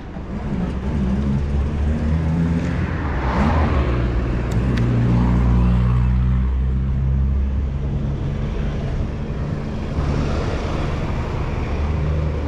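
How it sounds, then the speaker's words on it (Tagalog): A motorcycle passes on a road between Imus and Tagaytay, its engine a loud, steady droning hum with a slight rise and fall, no voices. "May motor."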